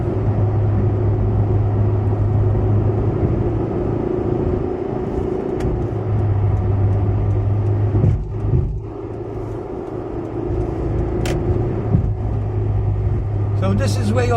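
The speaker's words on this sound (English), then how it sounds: "Now I'm on freeway where I can drive 100 kilometers per hour" A car travelling on a freeway at 100 km/h gives a steady, loud road and engine rumble with a constant low hum. Small knocks and clicks occur inside the cabin.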